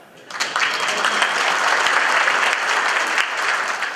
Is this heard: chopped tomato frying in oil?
no